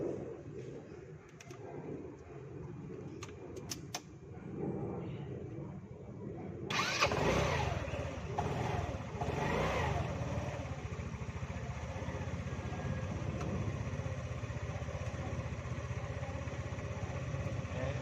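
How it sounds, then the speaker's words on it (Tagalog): A motorcycle engine cranks and catches, then runs steadily at a loud, close idle that continues to the end. "sana narinig yung tunog ng engine nung kinlip natin"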